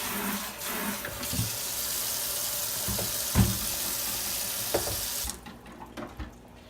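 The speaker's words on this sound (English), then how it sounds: "Now I'm just going to give this a good rinse just so it doesn't really stink all that much." An aquarium filter sponge is rinsed under a running tap, with a steady rush of water, a few splashes and knocks, then the flow cuts off near the end, leaving faint handling sounds.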